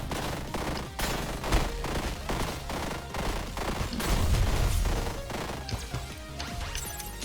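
Rapid bursts of enemy gunfire aimed at the player in the roguelike game One Step From Eden, loud crashing shots and impacts in quick succession with a heavier boom midway, over a steady game soundtrack.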